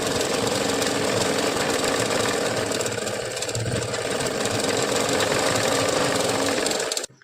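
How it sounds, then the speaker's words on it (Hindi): A sewing machine runs a top stitch on a princess-cut puff-sleeve blouse, giving a loud, continuous rattling hum with fast needle chatter that goes on without a break and stops abruptly at the end, with no talking. "अब इसमें एक ऊपर सिलाई चला लेंगे इस तरह से"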